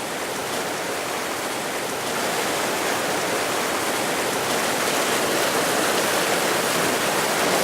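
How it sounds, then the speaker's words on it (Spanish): Steady, full rush of the San Juan river flowing through the Sumapaz páramo, a dense close-up roar of running water that stays constant and slightly builds over the whole span with no voices. "El río San Juan, uno de los ríos más bonitos que tenemos aquí en el páramo del Sumapaz"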